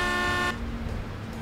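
A car horn in the farming game Professional Farming sounds one steady, loud tone for about half a second, then cuts off, leaving low engine rumble and background noise.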